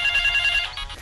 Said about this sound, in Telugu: ఒకసారి ఆగు, నా ఫోన్ వచ్చింది.